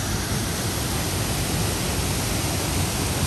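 Choshi Otaki, the only waterfall on the main course of the Oirase Stream in Aomori, Japan, gives a dense, steady roar of falling water close by with no break.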